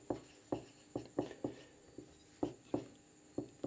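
A pen writes a geometry statement during a lesson, a quiet series of short scratchy strokes in an irregular rhythm, with no one talking.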